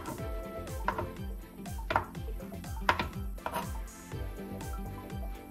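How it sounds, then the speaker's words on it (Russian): Knife slicing mushrooms on a cutting board, a steady series of quick rhythmic taps with a few louder sharp strikes, close and clear. "Нарезаем просто слоями."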